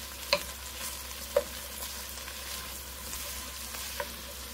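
Tomato paste cooking with vegetables in a pan before garlic goes in for braised beef short ribs, a low steady sizzle with a few sharp utensil clicks scattered through it, no talking.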